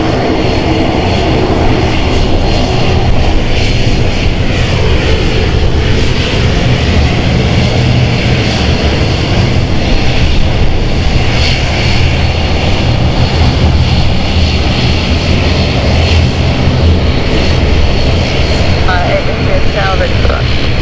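An Embraer E190SR airliner of German Airways, operated by ITA Airways, flies in at London City Airport with a loud, steady jet engine roar that fills the whole stretch without letting up.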